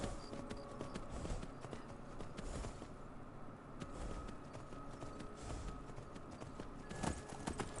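Horse hooves clip-clopping in the video game Skyrim, a steady rhythmic trot heard fairly close over a busy game background, with no talk.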